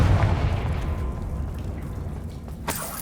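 A Confringo fire spell blasts in the Hogwarts Legacy game: a loud, low rumbling burst that fades over a few seconds, with a sharper crack near the end.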